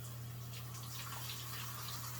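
Cold running water rinses dyed ombre rainbow hair, a soft, steady faucet splash with a low hum underneath, faint and continuous.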